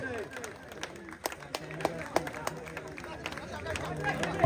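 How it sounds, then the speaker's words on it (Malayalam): Spectators at an outdoor tug of war contest clap in scattered, uneven bursts over a steady crowd hubbub, with a commentator's voice running on top of the noise. "ആവേശകരമായ മത്സരം, കാണികൾ കൈയടിച്ച് പ്രോത്സാഹിപ്പിച്ച്"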